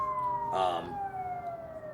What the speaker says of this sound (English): Sorry, you're hearing sirens. I'm near a hospital.